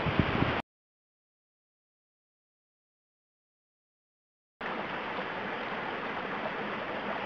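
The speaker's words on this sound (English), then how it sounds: "I'll show you the creek now." Creek water flowing steadily along Sandy Creek Trail, a broad continuous rushing wash, briefly at first then cut by several seconds of total silence before resuming.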